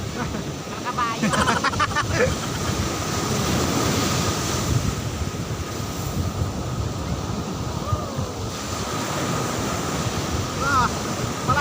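Strong surf crashes and rolls continuously on Patar Beach in Bolinao, Pangasinan, Philippines, with heavy wind buffeting the microphone and a voice speaking over it at times.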